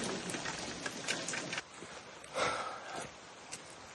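Steady rain falls in Kostiantynivka, a broad continuous hiss of drops on surfaces with a few louder spatters, holding at a moderate level throughout with no voices.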